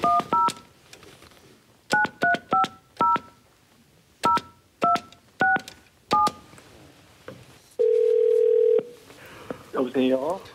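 A telephone dials out with a series of crisp DTMF tones in quick clusters, followed by a steady one-second ringback tone and a faint burst of sound as the call begins to connect.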